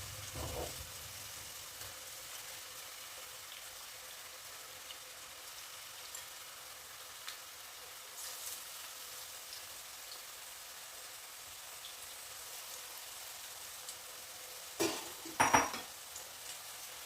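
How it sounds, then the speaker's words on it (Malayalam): Prawns fry in oil in a kadai on the stove with a faint, steady sizzle and hiss, broken near the end by a couple of brief utensil clinks. "നമുക്ക് ഈ ചെമ്മീനെല്ലാം ഒന്ന് വറുത്തെടുക്കാം."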